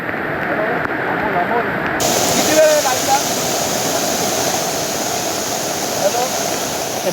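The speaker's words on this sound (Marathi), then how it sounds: "हा पवई तलाव देखील ओव्हरफ्लो झालेला आहे" Water from Powai Lake in Mumbai pours over its spillway after heavy monsoon rain, a loud, steady roar of rushing water filling the scene, with a brief sharper splash near the start.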